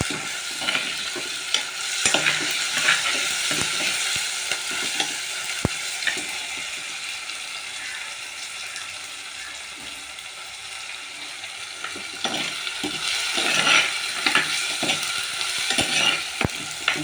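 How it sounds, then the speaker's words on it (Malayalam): Chopped garlic, curry leaves, four small shallots and green chillies sauté in oil, a constant close sizzle broken by clusters of sharp spoon scrapes and clicks against the pan, busier at the start and again near the end. "വെളുത്തുള്ളി, കറിവേപ്പില, 4 കഷ്ണം ചെറിയ ഉള്ളി, പച്ചമുളക് ഇത്രയും കൂടി അരിഞ്ഞ് ആ എണ്ണയിൽ വഴറ്റുകയാണ്."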